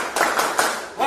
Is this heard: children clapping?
yes